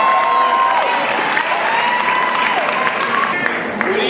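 Sustained crowd applause with scattered cheers fills a high school graduation ceremony for a new graduate, loud and steady throughout, with voices rising faintly over the clapping.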